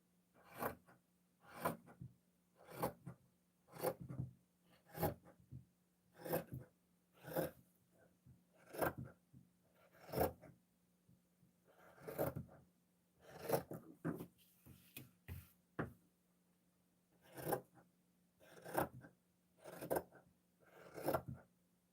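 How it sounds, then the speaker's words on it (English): Scissors cut through a sewn fabric seam in regular, separate snips roughly every second, quiet and close, with brief pauses between a few of the cuts and no voices. "Okay, so here is the sewn seam. So now I'm going to cut it."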